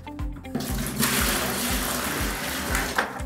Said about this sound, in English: Now it's time to mix the thin set. You want to put the water in first.